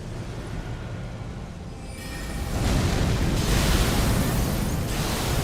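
A sorcery explosion in Elden Ring erupts as a loud, sustained broadband boom that swells after a quieter stretch and rumbles on for several seconds, with no talking over it.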